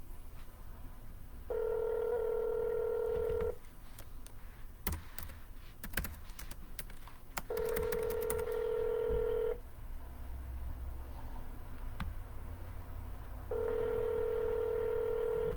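Touch-tone phone dialing while calling a phone number: three long steady tone stretches separated by bursts of rapid clicks and button beeps, close and fairly quiet, with no talking.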